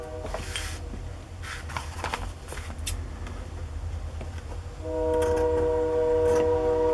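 A train rumbles past with scattered clatter, then a long horn blast rises in the last couple of seconds, fairly loud and near.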